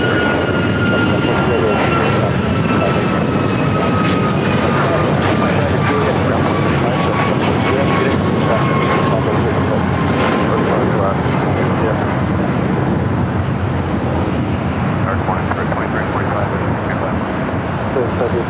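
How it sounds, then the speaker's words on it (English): Alaska Airlines Boeing 737 MAX 9 taking off at LAX, a loud continuous engine roar holding strong throughout, with a voice talking over it. "Taking off, that was Alaska Airlines Flight 310 heading to Dulles, and the 737 MAX 9"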